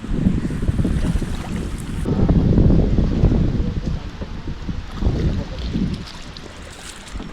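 A boat moving over open sea with heavy wind buffeting the microphone, low rumbling wash and splashing throughout, no voices.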